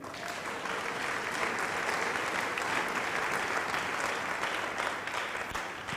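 A church congregation applauds in a dense, steady roar of clapping that holds at an even level throughout, with no pauses.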